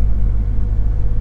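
Car engine idling after fitting double blackcore, catalyst, additive and tuning, a close low steady rumble with faint ticking from the fuel injectors, no speech.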